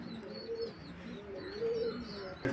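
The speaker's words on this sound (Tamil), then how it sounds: "பக்கா புறா" Sambar-line pigeons from a 40-year-old bloodline in Trichy coo softly in repeated low, rolling phrases mixed with faint chirps, fairly close, ending with a brief sharp knock.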